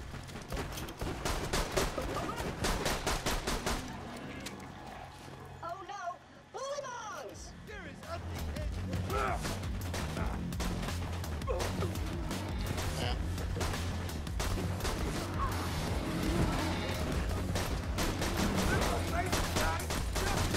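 Pistol gunfire in Borderlands 2, rapid sharp shots crackling throughout over dense game noise and music, with a brief lull midway before the shooting resumes steadily, people talking over it.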